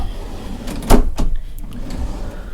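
Drawers in a cruise ship balcony cabin slide open with a sharp thud and a couple of short scraping rattles, close and fairly loud.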